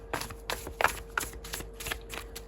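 A tarot deck being shuffled by hand in close, crisp bursts of riffling card snaps that repeat roughly every half second, loud and near, with no talk.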